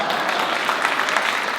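Studio audience at a televised interview breaks into a big round of applause, dense steady clapping filling the room without pause, no voices over it.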